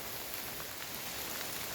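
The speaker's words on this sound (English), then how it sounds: "Come out in the rain, get wet." Steady rain falls outdoors at night, a dense, even hiss that holds at one level throughout with no voices.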